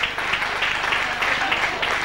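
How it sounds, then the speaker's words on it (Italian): A studio audience on an Italian game show applauds the hostess Martina with steady, dense clapping that holds evenly for the whole stretch and stands alone without talk. "questi applausi sono per te"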